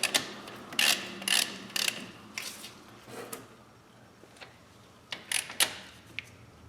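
A ratchet wrench clicks in short bursts while tightening front brake bolts on a Chevy Silverado, fairly close and quiet, with pauses between runs of rapid ticking.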